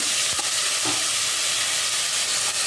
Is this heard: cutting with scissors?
no